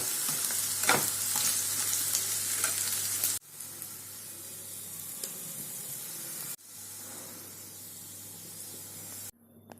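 Potatoes frying in hot oil until brown for a feast-style potato cauliflower curry, a loud continuous sizzle and hiss broken by two abrupt cuts, with no voices.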